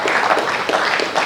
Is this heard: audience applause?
yes